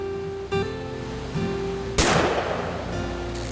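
A single loud, sharp gunshot rings out in the video game What Remains of Edith Finch. It sits over steady background music and decays with a short echo.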